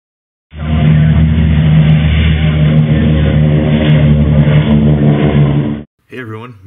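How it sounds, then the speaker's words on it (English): An air compressor runs in a workshop for building scale model aircraft, a loud steady mechanical drone close by that cuts off abruptly, followed by a brief spoken voice. "Shut up, compressor."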